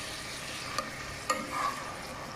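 Food frying in a pan before ginger garlic paste goes in, for a khatta meetha aloo dish: a steady soft sizzle with a couple of brief stirring clicks, close and fairly quiet, no talking.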